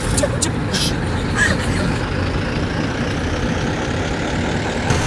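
A car engine runs steadily as the vehicle is driven, a low continuous rumble at moderate loudness, with voices talking over it.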